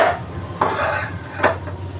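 A spatula scrapes and taps against a pan as anda bhurji egg scramble is stirred and broken into small bits, three distinct clanking strokes over a soft sizzle, close and fairly loud.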